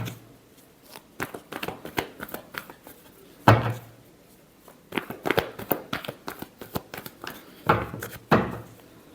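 Tarot cards shuffled by hand at close range, a run of crisp papery riffles and slaps coming in short irregular bursts with brief pauses between them.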